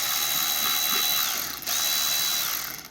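A Milwaukee M12 Fuel cordless ratchet whirs steadily close by, stops for a split second, then spins again before winding down, with no voices.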